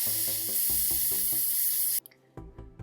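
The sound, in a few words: airbrush spraying blue paint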